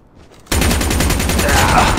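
Dense rapid-fire gunfire from the video game Call of Duty Mobile, likely a RazorBack SMG, bursts in loud and close after a brief quiet start and rattles on continuously.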